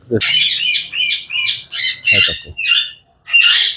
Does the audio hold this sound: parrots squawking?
yes